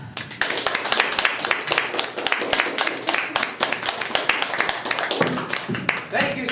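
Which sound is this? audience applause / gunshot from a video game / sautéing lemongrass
audience applause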